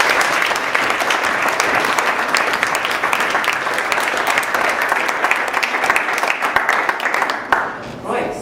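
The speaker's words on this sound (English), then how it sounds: "Let's have a round of applause for both teams." Audience applause for two debate teams, a sustained dense clapping from a full room that runs steadily for several seconds before tapering off at the end.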